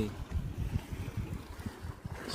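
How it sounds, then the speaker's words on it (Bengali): Wind buffets a riverbank at Keorakhali in the Sundarbans while river waves wash steadily below, a continuous low rumble of water and gusting wind noise across the microphone, with no clear talk. "আর কি ঢেউ হচ্ছে দেখো নদীতে"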